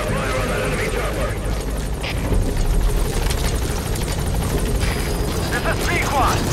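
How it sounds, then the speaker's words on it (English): Enemy chopper in Metal Gear Solid V: The Phantom Pain, a loud, dense rotor and engine roar that holds steady throughout, with radio chatter laid over it. "Focus all your fire on that enemy chopper."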